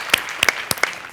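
A few scattered, sharp claps ring out at a home bhajan gathering, separate hand claps spaced across a second with little else around them.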